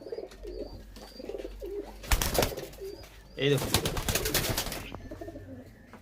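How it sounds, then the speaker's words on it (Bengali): Two Oman Teddy pigeons at a loft coo softly and repeatedly, close by, broken by loud rustling bursts as they are handled and released, while someone talks over them. "আপনাদেরকে একটু এখানে ছেড়ে দেখাচ্ছি এই পায়রা দুটো আরেকবার"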